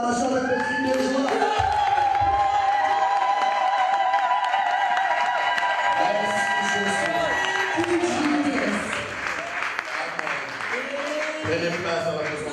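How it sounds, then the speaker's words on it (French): A large church congregation cheers and shouts with joy, clapping mixed in, a loud, sustained roar with raised voices rising and falling throughout. "l'acclamation avec le cri de joie"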